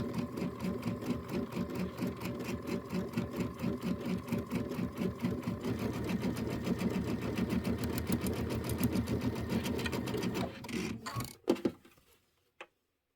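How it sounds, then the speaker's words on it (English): A sewing machine stitches through two layers of quilting fabric for pieced blocks, a close, steady rapid mechanical chatter that runs continuously, then slows and stops with a few clicks near the end. "Let's try and sew through 2 layers at a time instead of 3."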